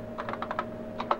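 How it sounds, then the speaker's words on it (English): A run of distinct keystrokes on a computer keyboard, typed into an early computer-aided publishing system, comes as a quick cluster of taps followed by two more after a short pause, heard close against a steady electrical hum. "Characters typed on the keyboard will be inserted in the document at the point marked by the caret."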